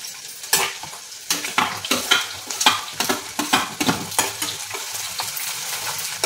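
Green chillies, garlic and onion frying in oil for methi bhaji, crackling sizzle broken by a regular series of spatula stirs and scrapes against the pan, close and fairly loud.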